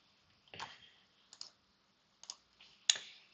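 A computer mouse clicking in 3D design software, four sharp separate clicks spaced irregularly over a few seconds against a quiet background.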